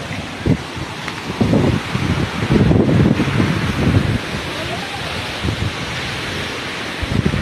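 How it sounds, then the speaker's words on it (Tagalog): Strong ocean waves wash onto a beach below a hillside walking trail, a steady broadband roar of surf and wind with louder surges as each wave breaks, with bits of talk mixed in. "Ang lakas ng alon."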